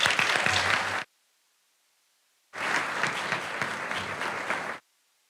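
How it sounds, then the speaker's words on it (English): Two bursts of audience applause for Braxton Gillum at a Florida Bar convention general assembly, loud and dense, about a second of clapping, a pause of silence, then a longer two-second round. "Please join me in giving a round of applause"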